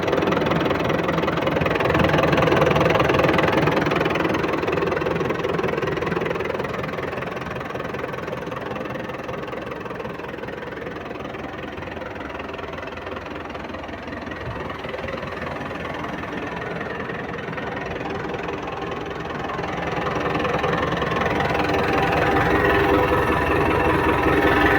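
A tractor engine for sale, said to have never been opened up, idles steadily outdoors with a continuous mid-to-low rumble and vibration, easing slightly quieter midway before rising again, with no talk.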